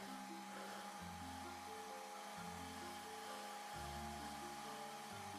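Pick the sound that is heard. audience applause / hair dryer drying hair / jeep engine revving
hair dryer drying hair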